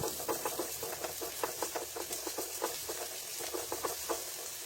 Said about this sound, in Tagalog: Sa parehas na kawali, gisahin na natin ang ating aromatics tulad ng luya, sibuyas, at bawang.